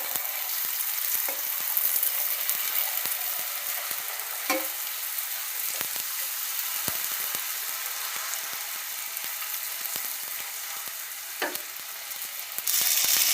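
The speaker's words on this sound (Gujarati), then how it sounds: "એવી રીતે આપણે બધી તળી લેશું" Panipuri puris deep-frying in hot oil, a dense, steady sizzle and crackle close by with occasional clicks of a slotted spoon pressing them, lasting throughout with no voices.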